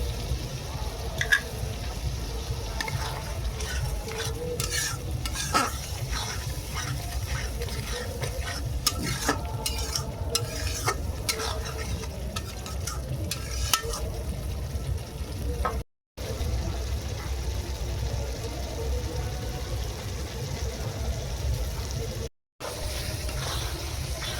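Spice paste with salt sizzles and gets stirred in a pan for a tomato rohu fish curry, a continuous close frying hiss with frequent scraping and clinking from the spatula, broken by two very short silent gaps.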